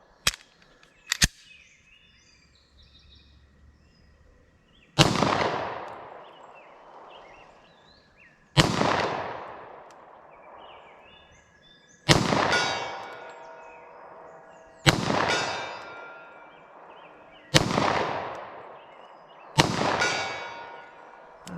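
Six sharp .40 S&W pistol shots with Corbon JHP ammunition, evenly spaced a few seconds apart, each with a ringing decay, preceded by a couple of faint clicks.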